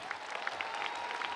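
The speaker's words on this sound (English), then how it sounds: "Let's give our two student speakers we've heard from so far a huge round of applause." Audience applause at a high school graduation ceremony, honoring student speakers; steady, fairly faint clapping from a crowd runs throughout the short stretch with no talk.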